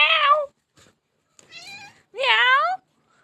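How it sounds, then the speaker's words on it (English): A cat meows close by in three loud, drawn-out calls with short gaps between them, and a fainter chirp comes between the second and third. "Come on, kitty. Kitty. Meow. Meow. Meow. Meow."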